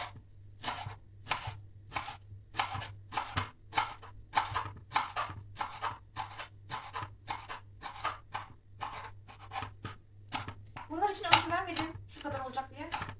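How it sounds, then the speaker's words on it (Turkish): A knife finely chops parsley rapidly and steadily on a cutting board, dozens of crisp even strokes close up, with a few quieter scraping sounds toward the end. "İnce ince maydanozlarımızı doğrayacağız."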